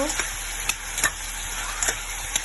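Prawn masala with a pinch of turmeric sizzles steadily in a pan while a spatula scrapes and stirs it in a few sharp, spaced clicks over a constant frying hiss.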